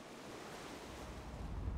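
Shore waves wash in steadily in the Savage Lands video game, a broad continuous surf roar with wind noise, swelling slightly louder toward the end, with no voices.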